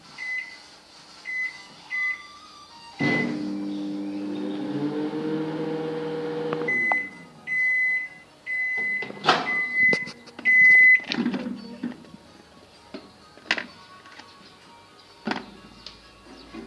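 Microwave oven heating a 7-Eleven rice dish mixed with shrimp paste, with repeated high beeps, a steady hum while running, then more beeps and clunks of the door and container.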